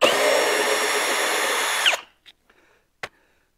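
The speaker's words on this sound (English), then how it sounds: "You put your socket wrench in there, and you can unscrew that 10 millimeter head right there." A powered socket tool whirs steadily for about two seconds as it spins a 10 mm bolt out of a Ski-Doo G4 snowmobile chaincase. It then cuts off, followed by a few faint clicks and a sharp metallic tap, with no talking.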